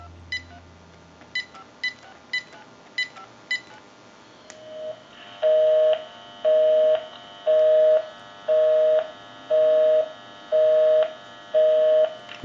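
A call dialed on a General Electric 27909 cordless telephone under repair: a quick run of short keypad beeps, then a line tone sounding in seven regular, evenly spaced bursts, close and clear.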